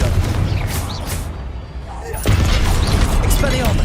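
A Confringo fire-blast spell cast in the open-world game Hogwarts Legacy, a loud booming explosive burst followed by a second heavy impact and rumbling tail.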